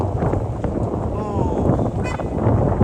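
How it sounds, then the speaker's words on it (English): Strong wind on the High Line park by the Hudson River in New York City buffets the microphone in a continuous low roar, with a faint whistling tone drifting through it. "Oh man, it's really windy right here."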